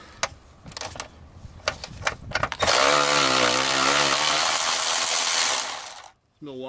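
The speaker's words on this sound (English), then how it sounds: "Milwaukee ratchet is a lifesaver." A Milwaukee ratchet spins off 13 mm drive shaft bolts on a BMW E36: a few sharp clicks and taps, then a loud, steady, close whirring burst of about three seconds that cuts off abruptly.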